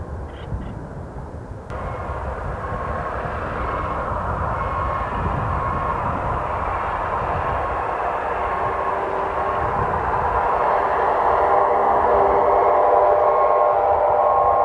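A freight train carrying shipping containers from the Port of Los Angeles rumbles past on the railroad tracks, a loud, continuous roar that builds and holds steady, heard alone without talk.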